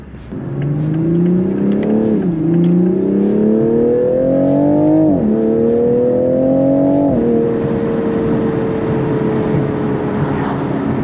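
A BMW Z4 or Toyota Supra sports car accelerates hard from inside the cabin. The engine climbs in pitch through three gears, with sharp drops at each upshift, then settles into a steady high drone, loud and close.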